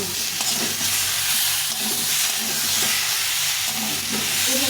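Ground tomato paste stirred into a frying spice masala for aloo dum makes a loud, continuous hissing sizzle with soft scraping from the spoon throughout, and no one speaks.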